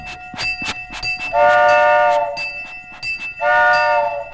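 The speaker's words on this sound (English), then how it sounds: "Then Chugger began to ring his bell and blow his whistle, and Ringer began to blow his whistle and chug." Toy-like storybook trains: horns blow in two long sustained blasts over rhythmic clanking and chugging, with a bell-like ringing in the mix, from an old children's record.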